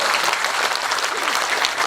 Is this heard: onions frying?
no